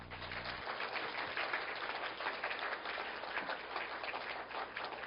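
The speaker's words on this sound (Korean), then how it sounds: "박수 한번 주실래요?" A church congregation claps during a Sunday service, a steady wash of applause heard at a distance in a large room, fairly quiet and continuous.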